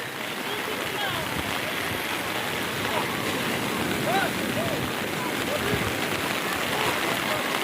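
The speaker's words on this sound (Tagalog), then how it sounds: "Ulan. Lakas na ulan." Steady heavy rain hissing on surfaces at Patungan Beach, with strong waves, a constant wash of noise with faint background sounds mixed in, no clear speech.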